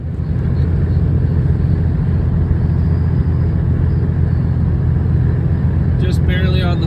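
A Cummins diesel truck engine with a failing lift pump, under very light throttle, gives a steady low rumble and drone heard from inside the cab, with a voice talking briefly over it near the end.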